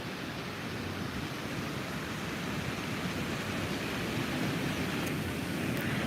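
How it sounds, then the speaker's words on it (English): Ocean waves break and wash steadily onto a beach in a continuous broad roar, close and loud, with wind adding to the rushing noise and no voices. "These waves look amazing."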